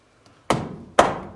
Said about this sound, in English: I can tap this in with this hammer here.